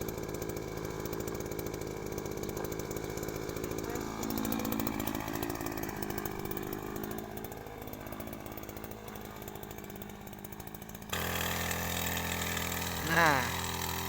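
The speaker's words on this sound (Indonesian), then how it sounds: "mesin sudah dinyalakan." The small engine of a motorized crop sprayer runs on a leek farm, a steady buzzing two-stroke drone that holds throughout and shifts tone partway through.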